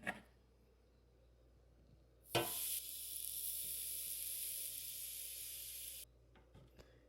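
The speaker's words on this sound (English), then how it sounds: "Let's put in the country style pork rib." Country style pork ribs going into an air fryer preheated to 400 degrees: a sharp clunk, then a steady bright hiss and whir that runs for several seconds before cutting off, followed by a few faint knocks.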